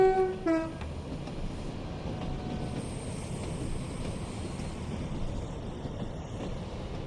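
A Class 323 electric train on the Cross City Line near Redditch in Train Sim World 4 passes by after a short horn blast, its steady rolling rumble and wheel noise filling the scene without talk.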